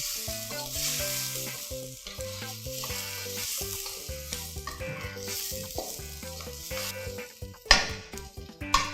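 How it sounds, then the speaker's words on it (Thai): Mussel meat stir-fried with torn kaffir lime leaves in a pan gives a steady sizzle with stirring, set under prominent background music that carries through the whole stretch. "ก็ผัดให้เขาให้เข้ากันค่ะ"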